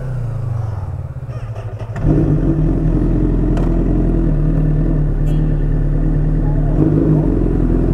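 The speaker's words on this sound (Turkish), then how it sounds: "Polisin yanında gaz veriyor motor." A motorcycle engine revs and rumbles loudly at close range, its steady throttle note rising sharply about two seconds in and holding near a police checkpoint, with faint talk mixed underneath.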